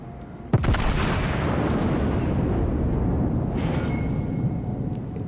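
Battleship main guns firing in World of Warships boom out in one sharp, loud salvo, followed by a long rumbling roar that trails away over several seconds, with a fainter distant report near the end.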